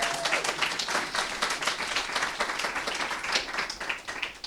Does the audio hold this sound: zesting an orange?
no